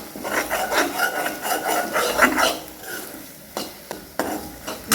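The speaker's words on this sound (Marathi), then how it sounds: "तेलामध्येच मसाला आपल्याला चांगला फ्राय करून घ्यायचा आहे." Masala for a green-chili brinjal dish is fried in oil and stirred, heard as rhythmic scraping strokes of a spoon in the pan, followed by a few sharp utensil clinks, close and clear with no voices.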